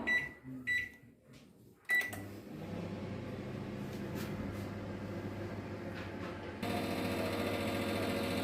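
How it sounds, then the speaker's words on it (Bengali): A microwave oven grilling a spicy green pea sandwich hums steadily and loudly, a continuous droning run that steps up slightly near the end, after a few brief clicks and knocks at the start. "মাইক্রোওভেনে 2 মিনিট করে, এই পিঠ 2 মিনিট ওই পিঠ 2 মিনিট করে গ্রিল করে নেব"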